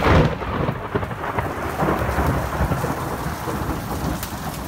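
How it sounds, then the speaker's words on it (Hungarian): Loud summer thunderstorm at Lake Balaton near Badacsony, with heavy rain pouring steadily and thunder rumbling throughout, a dense continuous roar with no voices. "odakint tombolt az elképesztő nyári vihar villámlásokkal, mennydörgéssel és égszakadással"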